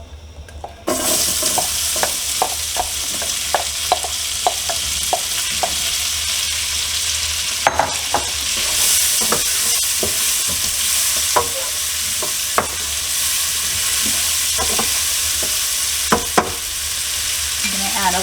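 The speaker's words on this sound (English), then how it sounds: "We are going to add our onion and garlic and sun-dried tomatoes." Onion, garlic and sun-dried tomatoes sizzling in olive oil in a hot pan for marry me chicken, a steady loud hiss broken by repeated sharp clicks of stirring, close up and without voices.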